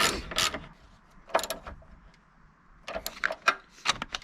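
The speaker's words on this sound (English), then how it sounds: "you can tighten it the rest of the way with the socket" A 10mm socket tightens down a car battery hold-down, giving close, sharp mechanical clicks in short irregular bursts separated by quiet gaps.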